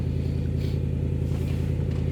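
A neighbour's car idling and revving nearby, a steady low engine rumble with a throbbing beat that holds for the whole stretch, heard alone.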